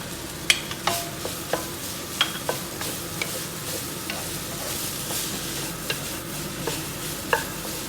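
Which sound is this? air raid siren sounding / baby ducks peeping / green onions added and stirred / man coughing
green onions added and stirred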